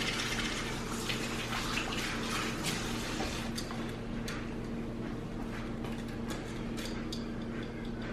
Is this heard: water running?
yes